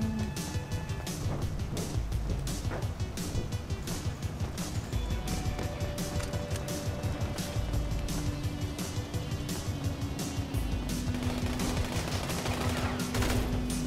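Gunfire in a GTA 5 Online deathmatch on PS4: dense, continuous bursts of automatic fire crackle without a break, loud and busy throughout, with engine and crash noise mixed in.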